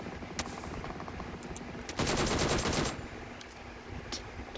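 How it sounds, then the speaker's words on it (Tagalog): Machine gun fire in a video game: scattered single shots, then a dense sustained burst of rapid automatic fire lasting about a second, followed by a few more isolated shots. "Ito mga baril man."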